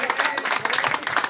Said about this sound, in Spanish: Vamos a dar un fuerte aplauso para la festejada.